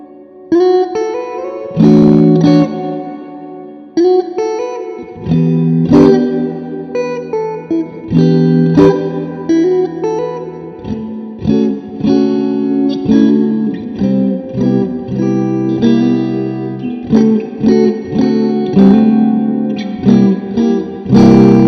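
Electric guitar played through an Orange Super Crush 100 amp with the reverb turned almost fully up, chords and single notes ringing out loud with long washing tails, alone without talk.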